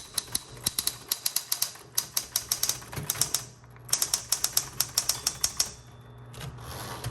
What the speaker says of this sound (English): I'm going to do a little bit more typing again.